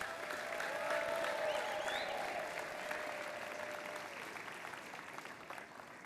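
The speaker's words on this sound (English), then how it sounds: "give him a big round of applause because he is streaming right now" Applause and cheering from a crowd at a state robotics championship opening ceremony, a broad continuous wash of clapping heard from a distance that slowly thins out, with a few shouts rising above it.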